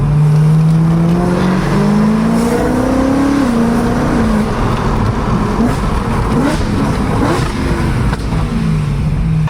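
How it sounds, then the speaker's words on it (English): Loud in-cabin engine note from a BMW E9x M3 V8 with an Eventuri carbon plenum pulling at full throttle in third gear, one long climbing rev with brief shifts and road noise throughout. "I'll try full throttle, third gear."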